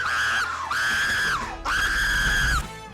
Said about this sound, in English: Stop screaming! Stop!